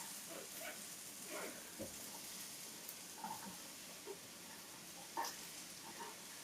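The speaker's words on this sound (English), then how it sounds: "So we are gonna saute these down." Chopped vegetables and onions saute in a pan over medium-high heat, giving a faint, even hiss with a few soft pops and stirring clicks.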